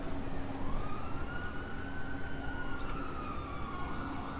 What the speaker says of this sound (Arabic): راح الاسعاف جاي